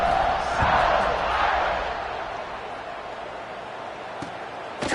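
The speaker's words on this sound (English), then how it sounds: "this crowd is buzzing after that last score" Stadium crowd noise from a college football video game, Notre Dame against UCLA, a steady loud roar that swells early and then settles into a sustained buzz, with a couple of sharp thuds near the end.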